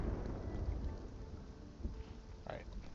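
Thunder rumbles low and muffled beneath steady rain in the Spiritfarer video game, a soft, distant stormy wash that swells slightly now and then with no voices.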